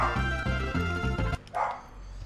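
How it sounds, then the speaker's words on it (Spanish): Rapid, rhythmic dog barks or yips, close and fairly loud, ending abruptly; this may be in-game barking from Donkey Kong Country. "Los perros ladran, aquí se emocionan con Donkey Kong."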